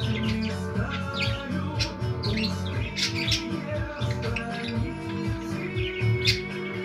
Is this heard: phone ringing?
no